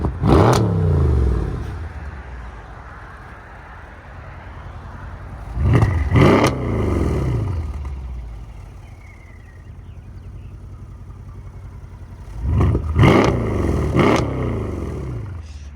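A Mercedes CLS 63 AMG with an aftermarket exhaust revs hard three times, each a loud close bark that swells and falls away, with a faint turbo whistle between revs and no talking.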